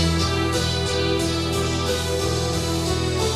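Dense trance synth riff with a slowly opening filter, from a track, sits in a full band mix, with a sustained bright, buzzy texture and rhythmic pulses throughout, loud and continuous.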